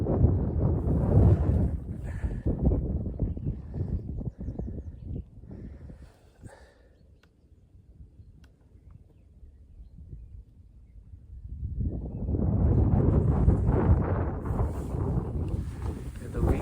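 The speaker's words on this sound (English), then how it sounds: "The wind gusts are definitely something." Strong wind gusts buffet the microphone in a loud roaring rush, easing to a quieter lull midway before surging back just as hard.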